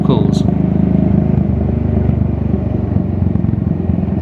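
A British single-cylinder motorcycle is heard being ridden, its engine thumping steadily and loudly close by throughout, with a brief voice near the start.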